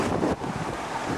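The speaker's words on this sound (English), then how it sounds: "It's freaking windy." Strong wind at a beach buffets the microphone in a loud, broadband roar with no voices.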